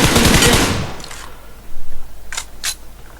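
Automatic gunfire in the mobile battle royale game PUBG Mobile: a loud, rapid burst opens, then quickly fades, followed by a few fainter, more distant shots.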